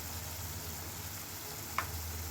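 Food frying together in a pan gives a faint, even sizzle with one small pop near the end, steady and quiet with no talking.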